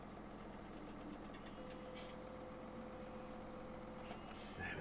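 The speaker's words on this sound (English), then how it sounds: "Start up the tractor." A farm tractor's diesel engine in Farming Simulator 17 runs steadily at a low, even idle for several seconds, then rises slightly near the end, with no talk over it.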